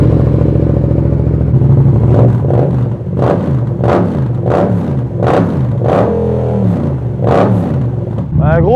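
Motorcycle fitted with an Arrow exhaust starts up and revs close by, the steady engine note broken by a series of sharp, rhythmic throttle blips.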